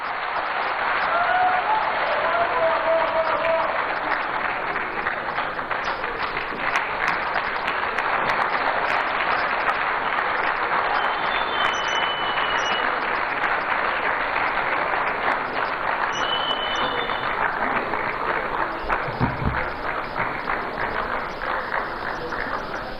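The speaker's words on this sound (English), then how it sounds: "Round of applause again, ladies and gentlemen." An audience applauds at a public dialogue event, a dense, sustained round of clapping that carries on steadily for over twenty seconds with no talk over it.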